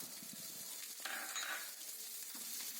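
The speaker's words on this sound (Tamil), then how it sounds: "ரெண்டும் சேர்ந்து நல்லா வதக்கி விடுங்க" Onion and garlic sautéing in a pan for moringa leaf chutney, a soft, faint sizzle with occasional light clinks and scrapes of a spoon against the pan, close by and with no voices.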